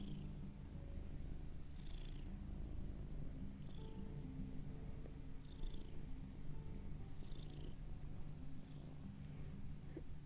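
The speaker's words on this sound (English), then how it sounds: "Listen to that purr." A large male house cat purrs steadily and close by, a continuous low rumble with faint rhythmic breaths, alone without talk.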